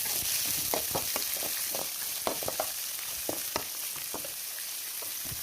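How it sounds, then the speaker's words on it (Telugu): Green chilies, curry leaves, coriander and onions frying in hot oil for dosa, a steady sizzle with scattered spatula clinks and scrapes, close up and without talk. "ఇవి కొంచెం బాగా వేగాక ప్లేట్లో తీసి పెట్టుకున్న పచ్చిమిర్చి, కరివేపాకు, కొత్తిమీర, ఆనియన్స్ వీటిని వీటిలో వేస్తాం"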